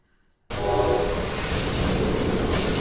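A small, compact train running in the horror game Poppy Playtime, starting abruptly after silence into a loud, steady rumbling roar with a hissing, rolling texture that continues without pause.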